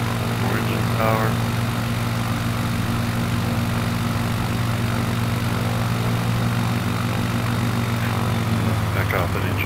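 A propeller aircraft engine in Microsoft Flight Simulator 2020 drones steadily at high power, a loud continuous buzzing hum with strong low harmonics that holds unchanged throughout, with a few faint clicks over it.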